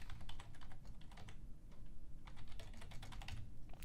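Rapid, steady keystrokes on a computer keyboard as a username and password are entered, close and clear with no voices, in two quick bursts separated by a brief pause.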